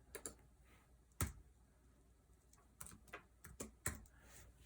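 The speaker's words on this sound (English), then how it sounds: "typing that into my calculator" A calculator's keys are pressed in a quiet room, sharp close clicks coming in irregular bursts with short pauses between them.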